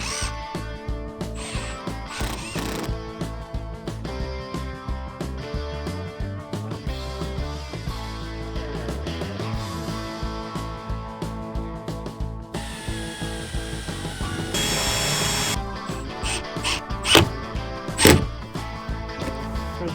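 A power drill drives screws into wood boards in a van conversion, giving repeated loud bursts of whirring and ratcheting with short pauses between screws and some knocks of wood.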